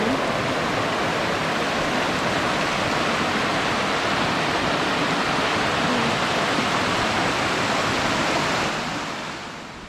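A creek rushes past a campsite at Hayahay Camp Site, a steady, dense wash of flowing water close by that holds even for the whole stretch and eases off slightly at the very end.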